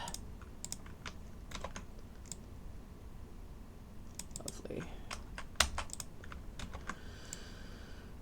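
Someone typing on a computer keyboard close up, a steady run of sharp clicking keystrokes in irregular bursts, with a brief spoken word partway through.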